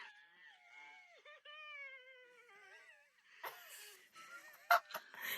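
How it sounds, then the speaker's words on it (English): A recorded human scream played back, sounding like a wounded animal: long wavering high-pitched wails for about three seconds, then noisier bursts with a sharp loud peak near the end, heard alone without talk. "Would you like to play the screaming one for everyone?"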